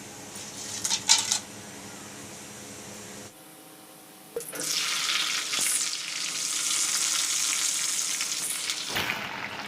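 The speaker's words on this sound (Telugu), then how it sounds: "ఇదండి బిర్యానీ ఆకు, లవంగాలు, దాల్చిన చెక్క, ఈ 3 వేస్తున్నానండి." Bay leaf, cloves and cinnamon dropped into hot oil for bagara rice: a brief clatter and spoon stirs, a quiet pause, then a loud close sizzle that hisses steadily for several seconds before cutting off.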